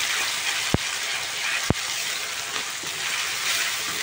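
Garlic, onion, ginger paste and chopped tomato frying in a pan with a steady, loud sizzle, broken by two sharp clicks.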